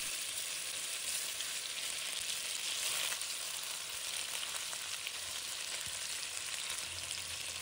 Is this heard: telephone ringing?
no